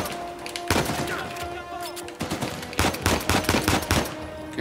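Rapid bursts of gunfire in the video game Uncharted 4, repeated loud cracks and automatic volleys close up, coming in dense clusters with brief gaps between them.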